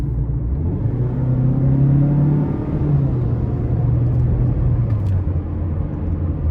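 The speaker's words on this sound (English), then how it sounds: "So again, it's a naturally aspirated 4-cylinder. You're pushing a small SUV, not bad acceleration." From inside a 2014 Mazda CX-5 with a naturally aspirated 2.0-litre four-cylinder, the engine drones as the SUV accelerates, its pitch climbing, dropping at a gear change and climbing again under steady road rumble.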